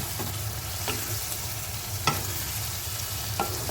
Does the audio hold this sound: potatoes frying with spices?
yes